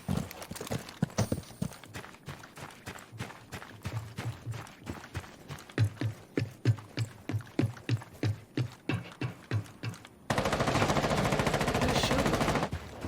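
Rapid rounds of gunfire in Rainbow Six Siege crack out in a quick rhythmic burst, followed by a sudden loud, steady hiss of noise near the end.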